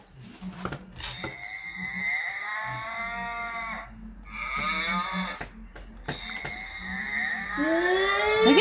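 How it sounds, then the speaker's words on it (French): Several long, loud cattle moos ring out close by, one after another with short gaps, the last rising as another begins; a low hum runs underneath. "Regarde les vaches."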